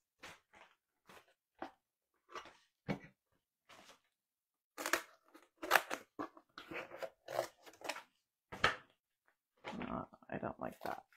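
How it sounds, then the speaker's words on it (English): Scissors snipping through a piece of cardboard to make a base for a tart-tin craft, a series of short, close crisp cuts in irregular bursts, with no talk over them. "So I'm going to cut a piece of cardboard"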